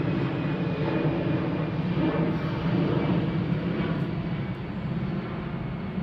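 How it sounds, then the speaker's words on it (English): An airplane passes overhead in South Minneapolis, a steady, broad engine roar that holds fairly loud and then eases slightly toward the end, with no talk. "pause here for the plane going overhead."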